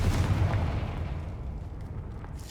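A Confringo fire spell bursts in the Hogwarts Legacy video game on PS5: a deep, booming blast with a rumbling low tail that slowly fades over a couple of seconds, loud and alone.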